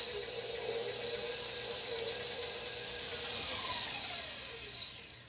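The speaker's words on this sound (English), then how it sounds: "We're going to beat this up on high just until it's all combined." A stand mixer runs on high, beating sugar and lemon zest together in a bowl for a gluten-free lemon rhubarb tart, giving a steady, even whirring hiss that holds close and constant throughout.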